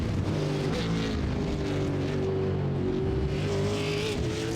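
A high-revving Super Late Model race car engine in the iRacing game at Watkins Glen drones steadily and loudly, its pitch shifting slightly as it powers along, with no talking.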